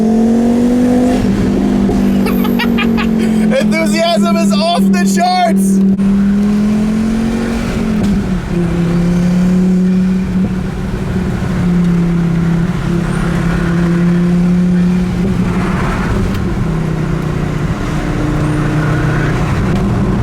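A stock 300-horsepower Volvo V70R engine revs loudly and close, with a rising then settling engine drone that holds steady throughout, while someone speaks briefly over it.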